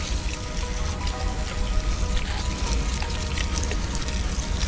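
Water sprays from a hand spray bottle set to its lowest pressure, misting lightly over peach seeds planted in soil; a steady, soft hiss with faint droplet patter runs unbroken throughout.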